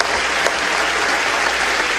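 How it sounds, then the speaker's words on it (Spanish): Congregation applause for Pastor Molina at a church gathering, a loud, dense wash of many hands clapping that holds steady for a couple of seconds with no voices over it. "un aplauso al pastor Molina por este tiempo"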